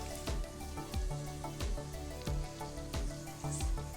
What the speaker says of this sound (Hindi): अब इसमें मैं प्याज डाल दूंगी, ढेर सारा प्याज पड़ेगा इसमें